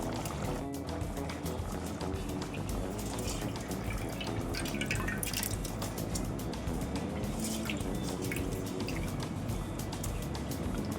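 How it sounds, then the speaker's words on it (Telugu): Water pours steadily into rice in a pressure cooker while mutton biryani is being made, producing a continuous splashing, trickling wash throughout. "దాని తగ్గట్టు నేను వాటర్ పోసుకున్నాను"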